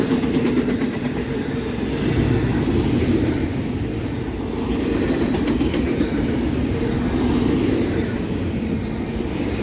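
A short freight train rolls past on the Norfolk Southern or CSX line near North Ridgeville and Elyria, a steady loud rumble with faint rhythmic clatter of wheels throughout, no voices.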